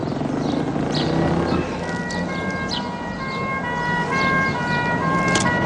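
An ambulance siren wails continuously in a rising and falling pattern, loud and fairly close, over traffic rumble with a few bird chirps.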